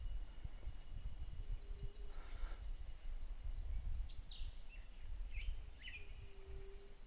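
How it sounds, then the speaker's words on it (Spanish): Small birds chirp and sing in scrubland and oak brush, with repeated high twittering phrases and a few longer whistled notes over a steady rustling outdoor background, moderately distant and fairly faint. "son pajaritos que cantan bonito"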